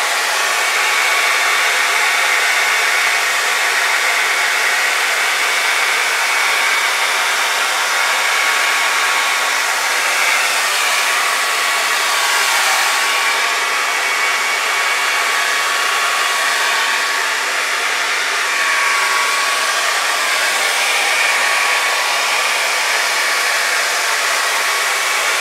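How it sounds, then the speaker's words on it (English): A hair blow dryer blows across fluid acrylic pour paint in a loud, steady, unbroken airflow roar that lasts throughout with no voices. "I dragged the blow dryer right through it"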